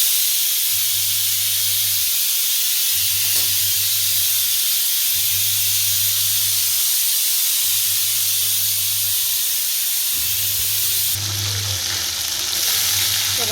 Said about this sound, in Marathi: तर आता कढईमध्ये फोडणीच टाकते